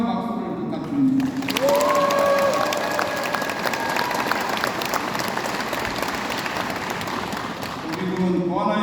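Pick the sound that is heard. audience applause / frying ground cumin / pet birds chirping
audience applause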